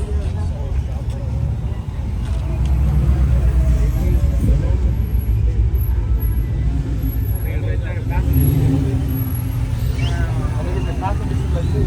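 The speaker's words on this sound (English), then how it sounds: "that car right there pulling up." A car rolls up nearby at a trucks and coffee gathering, a close low engine rumble that swells and fades, with people talking over it.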